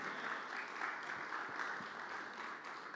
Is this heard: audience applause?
yes